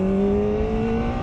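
A 2024 Kawasaki Ninja 400RR sport motorcycle engine revs, a loud, close, rising tonal engine whine that climbs smoothly through the short burst without talk.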